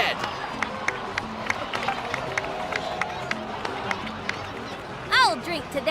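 A crowd in the Genshin Impact video game cheers and claps, a moderate wash of crowd noise under background music and spoken dialogue, rising to a louder burst near the end.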